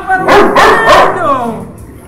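A dog barks three times in quick succession, loud and close, then gives a softer whimpering yip as the sound trails off.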